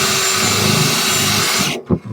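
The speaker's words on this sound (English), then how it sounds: "Let's try and drill one off." A power drill grinds steadily for close to two seconds while boring out a rivet on the aluminum underskin of a Playcraft tritoon pontoon, then stops abruptly, followed by a short clunk.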